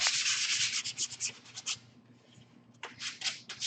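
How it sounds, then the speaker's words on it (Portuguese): Hand sanding of a wooden book holder piece in circular motions, a steady close scratchy rubbing that pauses briefly and then resumes, with no voices. "Aí a gente vai lixar toda a peça."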